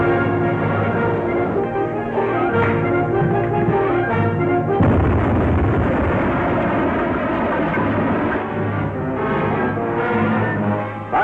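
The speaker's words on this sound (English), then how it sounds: "Torpedo one fired, sir." A submarine torpedo launch in an old serial, heard as a deep, continuous rumbling roar with a sudden louder surge partway through, steady and heavy with no speech over it.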